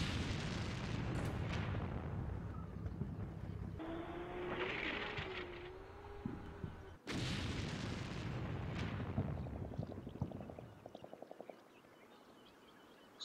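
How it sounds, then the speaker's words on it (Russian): A Bradley fighting vehicle's ammunition rack explodes in the Combat Mission: Shock Force war game, a sharp blast followed by a long rumbling roar, crackling bursts and fading secondary pops. "Взрывается боеукладка у Брэдли."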